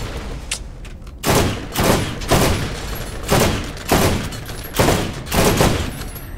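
Assault rifle fire in the shooter game Borderlands, coming in five or six loud, evenly spaced bursts of rapid shots with short quiet gaps between them.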